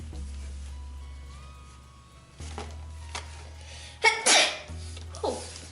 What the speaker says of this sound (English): I need to sneeze. I'm feeling a sneeze.